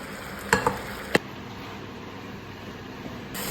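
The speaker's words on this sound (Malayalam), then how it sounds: "നമുക്കൊന്ന് ഹൈ ഫ്ലെയിമിലിട്ട് കുറച്ച് നേരം ഇങ്ങനെ ഇളക്കി കൊടുത്തോണ്ടിരിക്കാം" Pork with curry leaves is stirred over a high flame, giving a soft steady sizzle with a few sharp spatula clinks against the pan early on.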